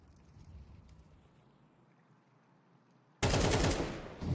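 AK rifle fire in a competitive video game match: after a few seconds of low, quiet background, a loud, dense burst of rapid shots suddenly erupts close up and continues to the end.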